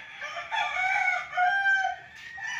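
Roosters crow at a game farm where fighting cocks are trained, several overlapping calls carrying through the clip, fairly close and loud, with no talk.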